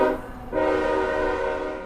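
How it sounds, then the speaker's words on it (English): A large train passing by sounds its horn in sustained, loud harmonic blasts with a short break, carrying over a low rumble of rail cars. "a Lexi from Drag Race sized train went by"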